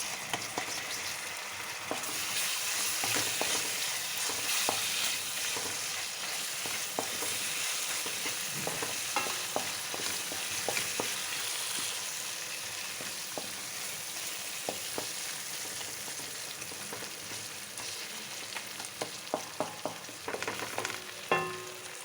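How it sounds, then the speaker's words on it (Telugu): Ginger garlic paste fries in oil for a simple chicken fry, a steady close hiss of sizzling broken by light scraping taps of stirring, with no voices. "పచ్చి రాకుండా ఆయిల్లో బాగా వేయించుకోవాలి"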